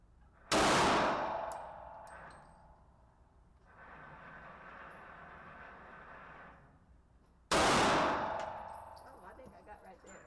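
Two sharp, loud shots from a Smith & Wesson M&P 40 pistol in .40 S&W, fired by an older woman, several seconds apart, each ringing out in a decaying tail over a faint outdoor rumble.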